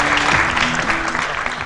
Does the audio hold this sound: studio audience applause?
yes